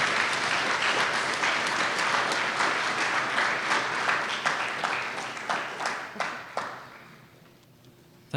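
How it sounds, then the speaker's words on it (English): An audience at a Canada Netherlands Friendship Day event in Burlington gives Jan Korenhoff of Apeldoorn a round of applause, dense clapping that thins into scattered individual claps before dying away. "Give him a big applause"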